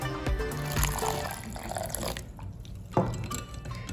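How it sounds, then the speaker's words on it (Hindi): Water is poured into a Gujarati khandvi batter of gram flour, ginger and green chilli paste, a continuous close liquid splash and trickle with a brief louder splash near the end, no talking. "अब इस मिक्सचर में जाएगा करीब 2 कप पानी।"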